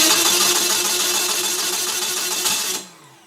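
A 4A032 military engine fitted with quad carburetors and headers cranks over on the starter, a loud, steady whirring grind for almost three seconds before cutting off abruptly, with no sign of catching.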